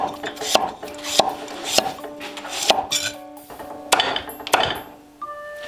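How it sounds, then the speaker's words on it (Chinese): Pumpkin being chopped into small slices with a knife on a board, a series of sharp, fairly loud chops in an uneven rhythm with short gaps and faint clinks between strokes. "我们要把它切成这种小片，然后等一下才好煮啊"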